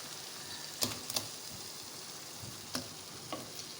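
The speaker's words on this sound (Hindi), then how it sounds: "अब हम इसमें शामिल करेंगे आलू जो हमने फ्राई किए थे, वो शामिल करेंगे।" Fried potatoes being mixed into a soft tomato masala in a pan, a quiet, steady sizzle broken by a few sharp clinks and scrapes of the stirring spoon.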